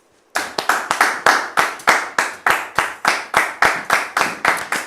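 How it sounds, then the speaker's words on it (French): Sudden rhythmic clapping in unison from a television studio audience begins after a brief silence, sharp claps repeating at a steady beat, loud and close. "Merci donc de la recevoir sous vos applaudissements"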